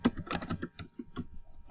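Keys clatter on a computer keyboard as C++ code is typed, a quick, close burst of uneven keystrokes lasting under two seconds.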